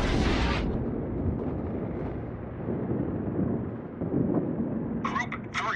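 Rumbling explosions and distant gunfire pound a ship in World of Warships, with a heavy blast opening a long low roar, followed near the end by brief radio-style game voice callouts.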